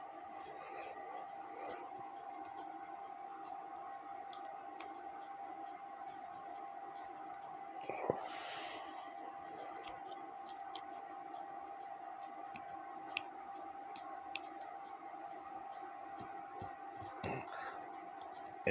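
Clock mainspring of a Korean steeple clock being let down with a homemade broom-handle key, faint sparse clicks and ticks of the click ratchet over a quiet steady hum, with a couple of louder knocks.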